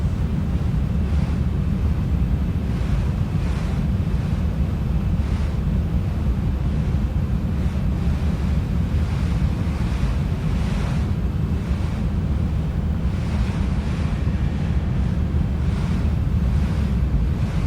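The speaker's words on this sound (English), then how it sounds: "So, wind is quite bad." Strong gusty wind in the X-Plane 11 flight simulator during a Boeing 737-700 approach to Rhodes with 34-knot winds, a continuous heavy roar with rhythmic surging buffets and no talking.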